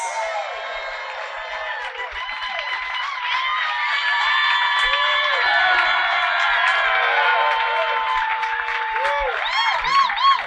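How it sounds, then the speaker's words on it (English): A concert audience applauds, cheers and whoops as a musician comes out on stage in Detroit, a dense, loud roar of clapping and shouts that swells and holds steady throughout. "is this still exciting that people clap for you everywhere you go?"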